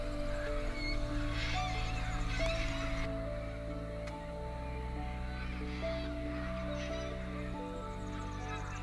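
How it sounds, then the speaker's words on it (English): Cockatoos call at wetlands around sunrise, harsh rasping screeches rising over a steady droning background, with a few scattered cries through the stretch. "There's kangaroos, there's cockatoos"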